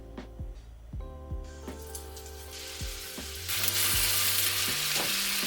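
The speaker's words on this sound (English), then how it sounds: "And now we're gonna add our meatballs." Lamb meatballs dropped into hot vegetable oil in a pan, soft thuds and placements followed by sizzling frying that swells louder and fills in toward the end.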